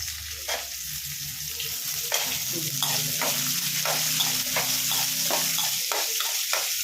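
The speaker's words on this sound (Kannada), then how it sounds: "ಈರುಳ್ಳಿ ಹಾಕ್ಕೊಂಡು ಫ್ರೈ ಮಾಡಬೇಕು" Onions fry in a pan for a hotel-style keema sambar, giving a steady close sizzle broken by repeated scraping clicks as they are stirred.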